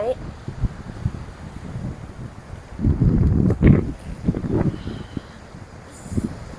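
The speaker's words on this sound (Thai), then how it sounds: "ลมแรงมาก ลมแรงมาก" Strong coastal wind on Koh Larn island buffets the microphone in low, rumbling gusts that swell and fade irregularly, loud and close throughout.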